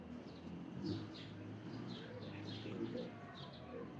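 Ferozpuri pigeon cooing softly in repeated low murmuring calls, with faint higher chirps from other birds around it.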